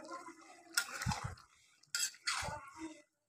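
Chopped onion tipped into a pan of simmering mixed vegetables in a home kitchen: two close clattering, splashy bursts with a brief pause between, the second followed by a soft sizzling tail.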